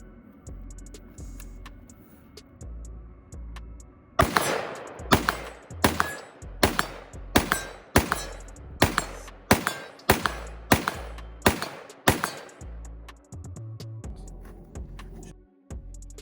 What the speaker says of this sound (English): we're gonna put some rounds on the gongs